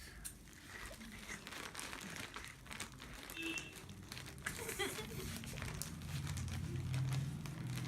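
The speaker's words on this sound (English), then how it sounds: "So we have to unwrap this." A plastic packet holding denim jeans is torn and unwrapped, giving steady crinkling and rustling close by with faint background voices.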